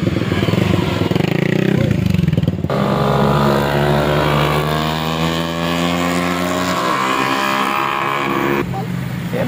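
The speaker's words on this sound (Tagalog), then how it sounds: "Yan ang mga motor, oh." Motorcycles rev and ride past at a drainage canal, loud engine drones rising and falling with one long sustained pass in the middle and people talking nearby.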